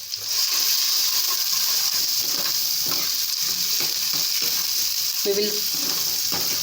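Green chilies and ginger garlic paste being stirred in a hot pan, a steady close sizzle and frying hiss with scraping stir strokes throughout and a brief voice near the end.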